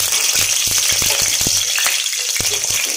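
Chicken sizzles in oil in a kadai, being half-cooked for a chicken dum biryani. A dense, steady frying hiss runs throughout, broken by frequent soft clicks and scrapes of stirring.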